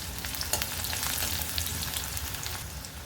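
Finely chopped shallots and chilies fry in a mustard-seed tempering, a dense, close, steady sizzle with small crackles and no speech.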